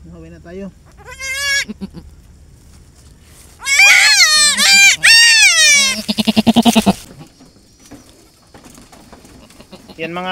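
A young goat bleats in several quavering, high-pitched cries, some short and some drawn out, close by and loud, with quiet pauses between.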